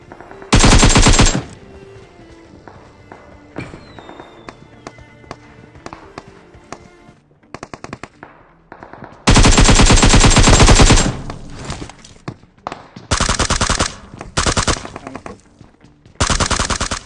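Loud automatic gunfire in a shooter video game, coming in several long sustained bursts separated by quieter stretches of game sound, with some shorter bursts near the end.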